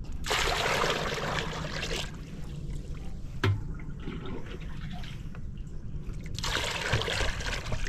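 Steady trickling water pours and splashes for a few seconds while watering young bitter melon plants, pausing briefly in the middle before the flow picks up again close by.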